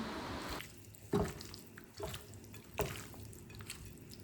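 Raw chicken being mixed by hand with chilli powder and salt, producing soft wet squelches and a few sharper slaps spaced about a second apart, with faint background noise and no talking.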